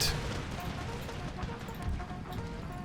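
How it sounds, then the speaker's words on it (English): Cannon fire during an Empire: Total War battle against colonial pikemen, heard as a dense, rumbling wash of distant booms and musket crackle without a clear individual report. "the cannon shoot the colonial pikemen across there"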